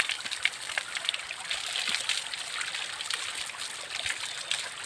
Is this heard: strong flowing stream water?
yes